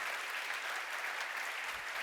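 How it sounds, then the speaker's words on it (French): Audience applauding at a Christian gathering, a steady wash of many hands clapping that holds at an even level throughout with no voices over it. "Vous pouvez vous applaudir."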